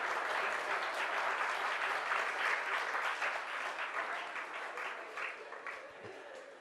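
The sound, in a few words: audience clapping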